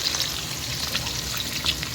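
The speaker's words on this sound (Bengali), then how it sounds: "এই চলছে বন্ধুরা দুটো কড়াইতে মাছ ভাজা" Fish sizzles in two pans of hot oil, a dense, even crackle heard up close with no talking.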